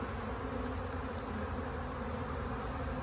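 Honeybees fanning and buzzing around their hive, a dense, steady hum of many wings close by that holds unbroken and even throughout.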